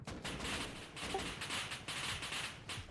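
Quiet rapid bursts of video game gunfire aimed at a helicopter, repeated volleys in a rattling rhythm with no one talking.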